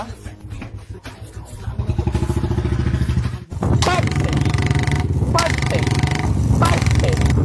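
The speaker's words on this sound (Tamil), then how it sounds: "புல்லட்னா இப்படி பட்டு பட்டுன்னு ஓட்டினா தானே சும்மா பட்டாசா இருக்கும்" A Royal Enfield Bullet motorcycle engine thumps and putters steadily, loud and close, with a brief dip midway as people talk over it.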